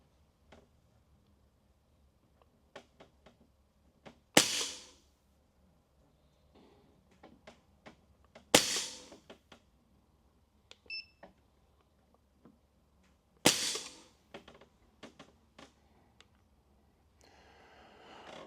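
Karma SLS .22 pre-charged pneumatic air rifle fired in semi-auto mode: three sharp, loud shots spaced a few seconds apart, with small mechanical clicks and handling noises between them.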